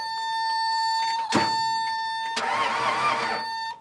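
A steady electrical whine runs throughout. A skid steer engine with broken piston rings gives a short cranking burst, then grinds over again in a longer, rougher crank.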